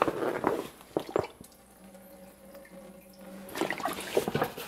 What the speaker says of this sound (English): I'll show you what that looks like when water comes out